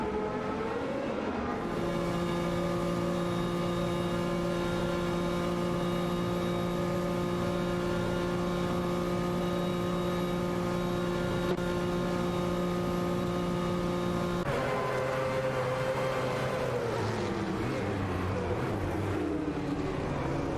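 A racing video game where AI drivers steer a Nissan and a Mazda 787B prototype against Toyota and Nissan R90 cars. Steady engine drones with strong harmonic bands hold for most of the run, then shift pitch near the end, continuous and loud.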